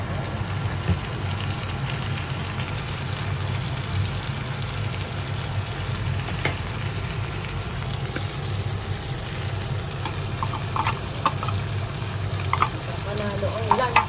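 Corned beef sizzling in a pan with sautéed garlic and onion, a steady dense crackle and hiss like light rain, with occasional stirring clinks and a voice talking quietly over it.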